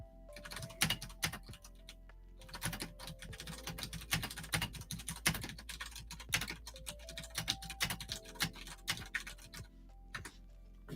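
Rapid, uneven keyboard typing on a computer keyboard as a chat message is written, a steady run of close clicks and clacks with brief pauses, with no talking.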